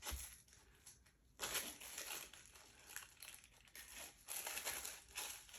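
Knife cutting through a block of watermelon soap, giving soft crunching, crumbling slices in a few uneven bursts, close and fairly quiet.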